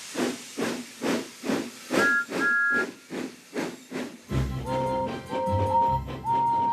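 Percy, a cartoon steam engine from Thomas & Friends, lets out a run of rhythmic steam hisses, several bright whistle toots sounding partway through, before the hissing settles into a busier mix of tones and music.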